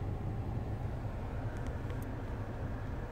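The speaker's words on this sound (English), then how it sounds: "You can hear the car working its aircon." Air conditioning running inside a Nissan Qashqai+2 1.6 Acenta, a steady low, even blower hum and whoosh filling the cabin throughout, with no talking.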